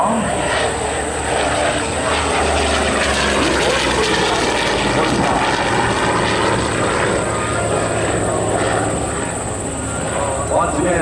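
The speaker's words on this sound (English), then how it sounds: "Once again, from the right-hand side, ladies and gentlemen, the big F4U Corsair. Coming in hard" F4U Corsair propeller aircraft roaring past at an airshow, a loud sustained engine drone swelling across the whole span, with a public-address announcer talking over it.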